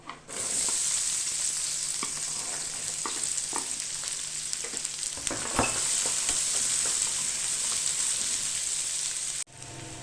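Onions sautéing in hot oil in a pan for chicken sukka, a loud, bright continuous sizzle heard up close, punctuated by intermittent stirring clicks and scrapes until it cuts off abruptly near the end.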